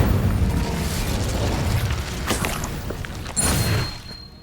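Incendio fire spell cast in Hogwarts Legacy on Xbox Series S, a loud roaring fiery burst with booming blasts, then a second sharp eruption near the end before fading out.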